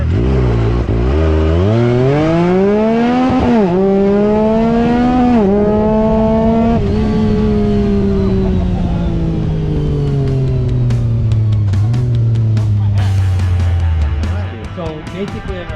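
A Honda Talon Turbo fitted with a Kraftwerks kit revs hard toward 11,000 RPM, its loud engine climbing in pitch through several surges before easing back down, close and continuous, with a voice partly underneath.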